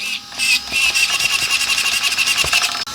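A UDIRC 1203PRO RC car's steering servo whines under load as the wheels turn against a rubber mat, a close, high, buzzing motor sound pulsing in quick repeated bursts without talking.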